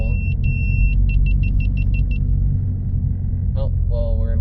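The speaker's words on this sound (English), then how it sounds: "push the clutch in, shift to the next gear" A car with a manual stick shift rumbles steadily as it drives, engine and road noise loud and close, with a run of electronic beeps early on and a person speaking toward the end.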